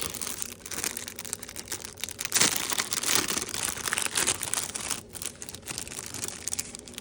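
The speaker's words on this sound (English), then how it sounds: "So we're going to go ahead and unwrap these really quick." Packaging around ant nest products being unwrapped, continuous close crinkling and crumpling of plastic with occasional tearing, no talking.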